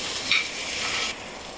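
Rock salt and ingredients roasting in a hot pan for a Navratri fasting thali, a steady bright sizzle with a brief scraping stir near the start, close and continuous throughout.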